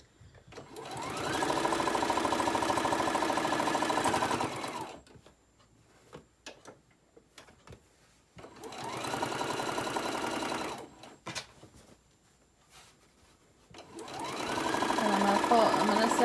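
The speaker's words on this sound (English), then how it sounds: "you're going to sew this all the way down" A sewing machine stitches a Christmas pillow case in three steady runs of rapid mechanical whirring, each lasting a few seconds and separated by quiet pauses with faint handling sounds.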